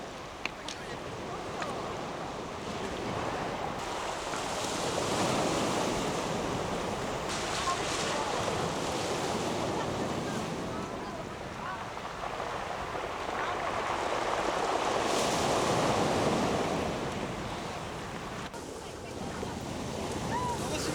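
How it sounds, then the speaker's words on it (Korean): Rough waves wash over the rolling pebbles of Gonggot pebble beach on Geoje island. The surf swells and recedes in slow surges, carried on a broad rushing hiss with some wind buffeting the microphone. "거친 파도에 몽돌 구르는 싱그러운 소리가 귀를 유혹한다"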